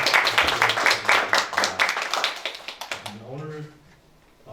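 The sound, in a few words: applause for two church guests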